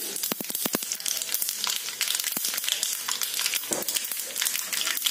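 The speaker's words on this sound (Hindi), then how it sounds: "अब इसके अंदर डालेंगे आधा चम्मच के करीब राई" Steady crackling sizzle of about half a teaspoon of mustard seeds popping in hot oil, with a cluster of sharp pops early on and continuous frying hiss throughout, no talking.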